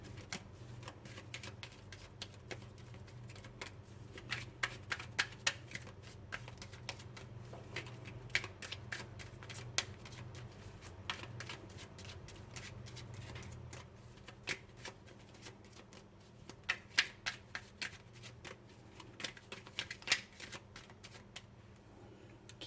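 A deck of oracle cards is shuffled over and over, making soft papery riffles and sharp flicking taps in an irregular rhythm against a quiet background.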